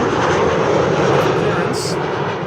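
A jet airliner taxiing at Amsterdam Schiphol Airport on a frosty, sunny day gives a steady, loud engine roar with a broad whine that holds constant throughout.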